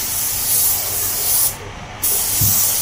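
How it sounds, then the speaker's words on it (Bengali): Short bursts of spray gun hiss during a colour touch-up on an MG Comet with aqua-base paint, loud and close, dropping out briefly in the middle before resuming. "হালকা করে উপর দিকে ধুলা ধুলা মতো উড়াই দিলাম টেচাপে।"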